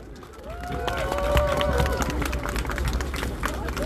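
Audience applause at an outdoor public gathering welcoming a young speaker, a dense burst of clapping mixed with crowd noise, while a voice speaks over it.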